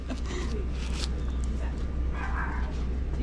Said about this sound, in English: my damn dumb dog